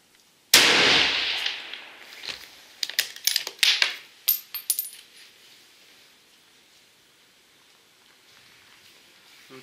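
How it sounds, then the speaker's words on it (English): A rifle shot fired at a target 220 yards away cracks once sharply up close, followed by a string of quick clicking and rattling handling noises before the scene falls quiet. "Okay, so the first shot is on his head at 220 yards"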